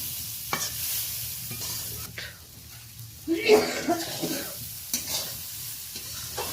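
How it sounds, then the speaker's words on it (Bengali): Spices are stirred into amla pickle in a pan, heard as a soft scraping and light sizzle with a few distinct stirring strokes against a quiet, faintly hissing background. "দেড় চামচ মতো মশলা দেওয়ার পরে বেশ হালকাভাবে দু তিনবার আমি নাড়াচাড়া করে নিলাম"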